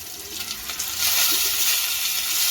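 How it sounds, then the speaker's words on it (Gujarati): Whole tomatoes frying in hot oil in a pan, a steady close, loud sizzle that swells midway and keeps hissing with faint bubbling, no voices. "હવે પલટાવી લઈશું તે બીજી બાજુ પણ આ રીતે આપણે તેને ફ્રાય થવા દેવાના છે"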